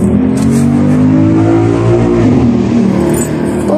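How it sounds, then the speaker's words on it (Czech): Motorcycle revving past close by: a loud engine note climbs in pitch, holds, then dips as the bike goes by, with no voices over it. "Pomoc, motorka."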